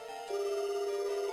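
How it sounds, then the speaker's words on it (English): A telephone rings in Silent Hill: The Play Novel, a clear electronic tone that starts faintly and then holds steady and fairly quiet, with no talking. "The phone is ringing. The mechanical electrical sound repeats. Over and over."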